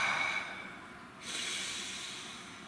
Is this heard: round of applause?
no